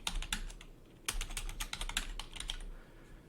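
Typing on a computer keyboard while entering a prompt name in a web app: close, crisp key clicks in quick uneven bursts, with short pauses, and no voices.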